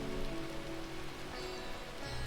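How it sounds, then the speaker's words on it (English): Rain falls steadily in the video game Final Fantasy XIV Endwalker, a soft, even hiss that continues throughout at low level with no talk over it. "it's a bit rainy at the moment"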